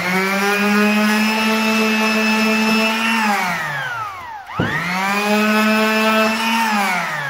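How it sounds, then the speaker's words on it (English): A power tool, most likely a power sander, runs steadily on wood being distressed for an antique look, with a loud, constant whine that winds down, briefly stops and spins back up. "you're going to want to sand those areas just like you did there"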